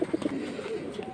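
Giribaj high-flying pigeons coo close by in a few soft, rounded, repeated notes over a quiet background.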